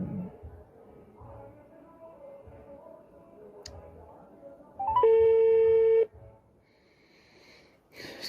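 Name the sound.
phone call ringing tone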